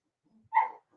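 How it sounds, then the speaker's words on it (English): A single short bark from a dog indoors, sharp and fairly close, preceded by a faint soft sound and surrounded by quiet. "the dog's going to start barking now because her daddy just came home"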